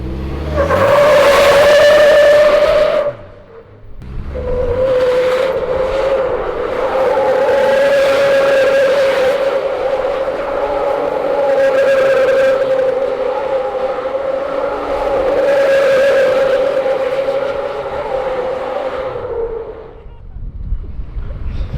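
A Segway Super Villain off-road vehicle engine roars loudly and steadily for about twenty seconds during a brake-boost launch, dipping briefly near the start before surging again with a harsh, revving drone.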